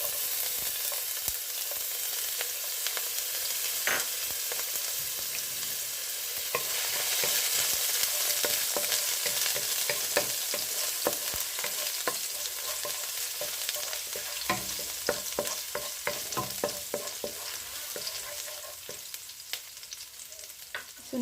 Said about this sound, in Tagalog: igigisa ko na po. Unahin ko po yung bawang.